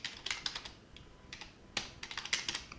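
Computer keyboard being typed on in short quick clusters of crisp close keystrokes with brief pauses, no voices.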